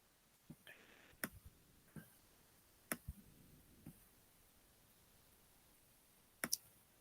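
A computer mouse clicks while working in a Google Slides presentation, with several faint, scattered clicks including quick paired double-clicks over quiet background hiss.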